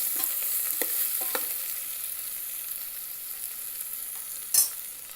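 Red chili flakes and onion frying in oil in an Instant Pot on sauté, a steady soft sizzle with a few scraping stirs and one sharp clink near the end, no talking.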